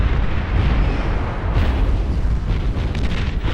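Dense, continuous rumbling barrage of flagship cannon fire and overlapping explosions in the strategy game Beyond All Reason, loud and sustained with scattered sharper blasts throughout.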